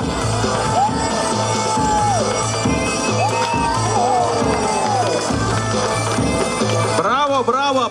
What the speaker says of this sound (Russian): Аплодисменты Андрею Камину